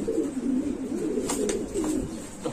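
Lotan pigeons at a fancy pigeon farm, with a steady low cooing running throughout and a few sharp clicks or knocks in the background.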